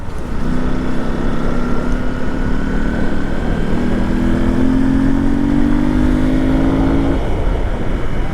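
A Hero Xpulse motorcycle fitted with a big-bore kit revs its engine hard, a steady loud drone that rises in pitch over several seconds amid wind and road noise.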